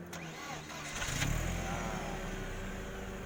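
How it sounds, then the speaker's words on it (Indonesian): A Mercedes-Benz W202 engine cranks and catches, then settles into a steady rumbling idle close by, with a low hum throughout. "kita akan nyalakan mesinnya"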